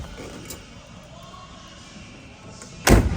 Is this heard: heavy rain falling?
no